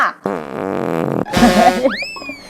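Loud fart noises from a prank: a long buzzing blast, then a second rougher, wavering one ending in a squeaky rising tail, with no talking.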